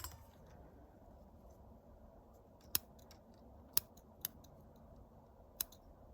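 Scissors snipping strong thread in a quiet room, four or five crisp isolated clicks spaced about a second apart over a faint background hush.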